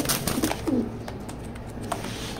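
Racer pigeons coo close by in a few short, throaty bursts, with soft shuffling and faint background noise and no talking.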